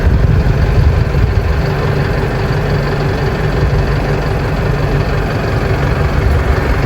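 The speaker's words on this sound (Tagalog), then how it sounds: "matining po yung tunog ng makina" A Japan surplus truck's diesel engine idles close by, a steady, loud low rumble with an even, unbroken drone and no talking over it.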